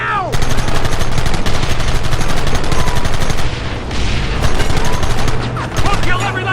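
Loud, sustained automatic gunfire from the Red Dead Redemption video game, rapid bursts overlapping in a near-continuous barrage with a short lull partway through.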